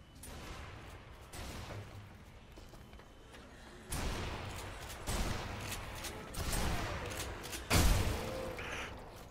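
Video game gunfire in bursts of shots and thuds, getting louder from about four seconds on, with the heaviest blast near eight seconds.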